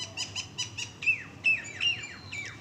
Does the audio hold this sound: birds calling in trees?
yes